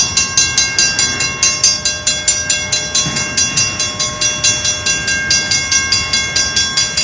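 Railroad crossing signal at Roanoke's Railwalk in Virginia, its bell clanging in a rapid, steady repeating rhythm with a sustained ringing tone, loud and close, with no talking.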